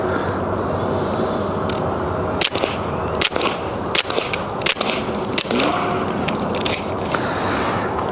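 Suppressed subsonic gunshots through a HUXWRX Flow 22 titanium suppressor, fired outdoors over dirt: about eight sharp, muffled cracks spaced irregularly over steady background noise.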